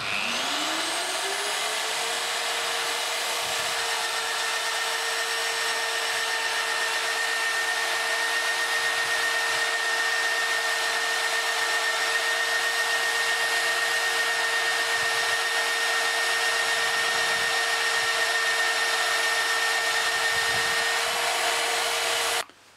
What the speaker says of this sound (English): we're going to drill a steel beam for a home extension.